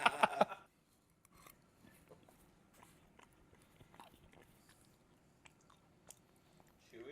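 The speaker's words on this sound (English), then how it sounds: "The fucking mango is like crunching in my mouth like it's candy" Close chewing of crunchy mango eaten with spicy chili, heard as a few crisp bites at the start and then faint, intermittent mouth crunches and squishes in a quiet room.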